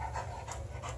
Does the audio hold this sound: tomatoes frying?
no